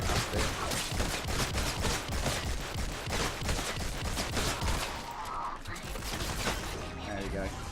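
Rapid gunfire in Fortnite as a shotgun blasts a mimic, dense repeated loud shots with mechanical clicks and clatter throughout, ending in scattered effects.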